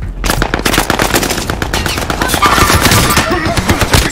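Rapid automatic gunfire from a Warzone match fires in dense, continuous bursts, loud and close, filling the whole stretch with overlapping shots and no pauses.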